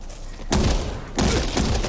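Two quick bursts of gunfire in the zombie shooter Back 4 Blood, each a short, dense crackle of shots close by, with a brief lull between them.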